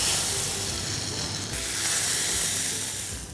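Green chillies dropped into hot oil sizzle steadily for tempering dal, a dense, loud frying hiss that holds level throughout with no talk over it.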